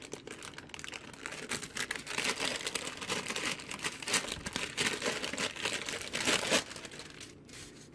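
Red licorice candy peeled loose from parchment paper, a run of close, crisp crinkling and crackling paper rustles with irregular bursts, no speech.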